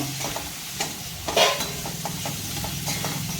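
Grated fresh coconut and dal are sautéed in a pan for jowar khichdi, giving a soft, continuous sizzle with scraping stirring strokes and one sharper clink partway through.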